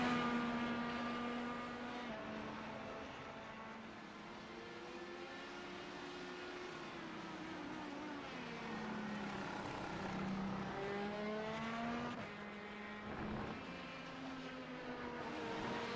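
Open-wheel IndyCar race car engines in a racing video game whine continuously, revving up and down in sweeping pitch changes as several cars pass, loud and unbroken with no talk.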